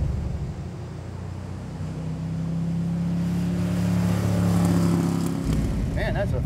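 A 1971 De Tomaso Pantera engine idles with a deep, rumbling drone, then builds into a louder sustained rev before dropping back abruptly, heard up close.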